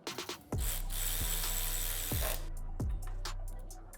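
A ratchet screws a 30 millimeter attachment back onto a Softail motorcycle, a few quick clicks, then a sustained mechanical whir punctuated by sharp clicking strokes, fairly close and with no one speaking.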